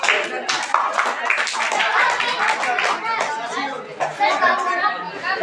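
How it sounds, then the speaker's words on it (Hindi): Scattered audience clapping at a quiz contest, uneven bursts of hands mixed with lively chatter and a talking voice throughout, moderately loud and close. "ठीक है, मेरे लिए ताली मार दो।"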